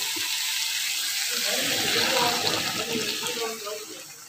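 Water poured into mushroom masala in a pan, a broad splashing, hissing pour that swells mid-way and then tapers off, close and fairly loud with no talking.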